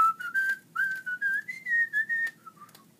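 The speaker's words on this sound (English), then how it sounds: "King Gerard also liked to hear the royal grocer whistle a tune" Someone whistles a simple tune for a children's story, a series of clear pitched notes in short phrases with brief gaps, close and fairly soft, no talking.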